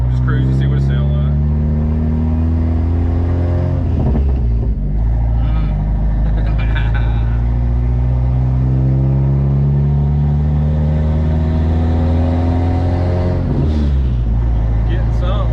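A cheaply turbocharged Jeep Wrangler engine drones steadily while cruising, loud and close from inside the cabin, with brief shifts in pitch and people talking over it.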